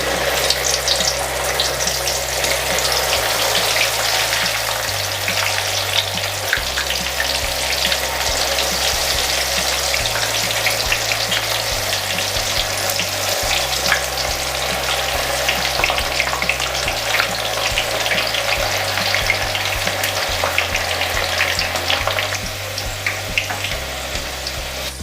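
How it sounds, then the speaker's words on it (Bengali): Chana dal held in a metal strainer and dipped into hot oil fries with a constant, dense crackling sizzle that runs unbroken and fairly loud, with no talking. "তেলের মধ্যে কিছুটা ডুবিয়ে ডাল ভেজে নেব"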